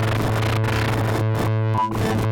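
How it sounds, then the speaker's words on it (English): A dense, buzzing VCV Rack synth tone modulated by a smooth random LFO, its timbre shifting erratically and quickly, with brief dropouts and jittery, distorted texture throughout. "I added a smooth random LFO."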